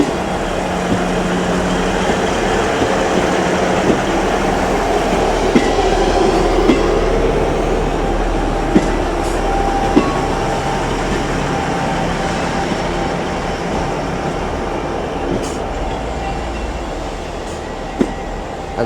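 A ScotRail passenger train, class 170 unit 170412 on a service to Glenrothes with Thornton, rumbles steadily through Edinburgh Waverley station, with a low engine drone and occasional clicks and brief squeals from the wheels.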